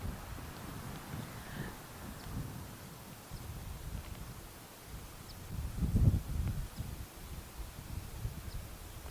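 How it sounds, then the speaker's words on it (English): Wind gusts rushing through trees on a golf course, a steady broadband rustle and roar with a stronger gust swelling near the end, no talk. "Couple wind gusts really picking up. Can hear it and see it in the trees and the movement."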